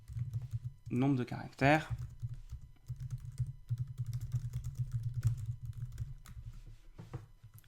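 Rapid, irregular keystrokes on a computer keyboard clatter steadily through most of the clip, close and moderately quiet, with a short stretch of speech near the start.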